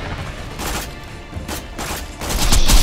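Dense, loud video game gunfire in Borderlands 2, Tiny Tina's Assault on Dragon Keep, rapid shots running together with explosive booms building toward the end.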